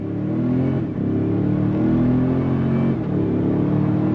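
A 2023 Toyota Sequoia TRD Pro with a 10-speed transmission accelerates hard, its engine revving up loudly and close with short dips at the gear shifts.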